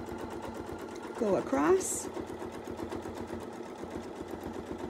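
A sewing machine stitches quilt fabric in a fast, steady mechanical chatter, close and continuous, while someone briefly speaks over it.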